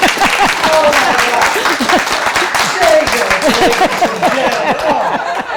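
Audience applause at a Fairbanks Tall Timbers talk, sustained clapping from a crowd with chuckles and scattered voices mixed in.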